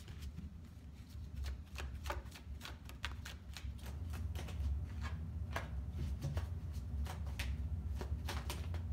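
Tarot cards being shuffled by hand, a quiet run of quick crisp riffling flicks and soft taps coming in bursts over a faint room hum, with no talking.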